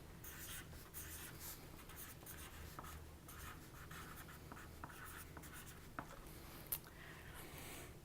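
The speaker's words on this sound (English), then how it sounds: "So first thing I'm going to do is write 500 down right up here." A pen writing numbers on a practice page, a soft continuous scratching with short strokes and small taps, quiet and close, with no talking.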